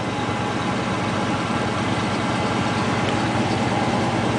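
A 1977 Chevy K10 stepside truck engine idles steadily after a cold start on a chilly morning, a loud, continuous low rumble with an even throbbing pulse and no voices.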